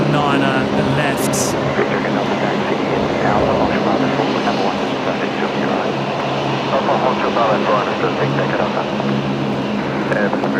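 A Velocity Boeing 737-700 jet departs Brisbane airport for Sydney, its engine roar a steady, loud wash throughout while a voice talks over it.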